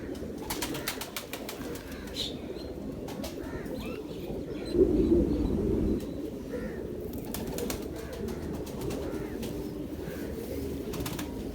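Sialkoti pigeons coo softly in low, repeated murmurs, with scattered chirps and a brief louder rustle partway through.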